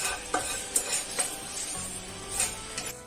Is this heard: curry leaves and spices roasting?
yes